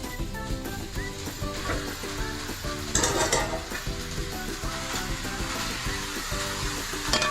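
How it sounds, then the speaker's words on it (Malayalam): Washed chicken pieces fry in a pan for a Kerala-style kurma, with a dense continuous sizzle, stirring scrapes and a louder hiss burst partway through over a faint tonal background. "ഇനി നമ്മൾ കഴുകി വൃത്തിയാക്കി വെച്ചിരിക്കുന്ന ചിക്കൻ ചേർക്കുകയാണ്."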